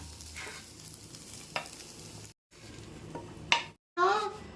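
Tomatoes and onions sauté in a pan with a quiet, close sizzle, a few utensil clinks against the pan, and brief dead-silent gaps between bursts.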